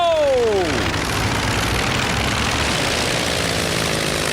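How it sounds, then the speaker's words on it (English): Cartoon aircraft engine revving for takeoff in a children's animated show: a quick falling swoop, then a loud, steady droning engine roar, with animated voices over it. "Ready for takeoff?"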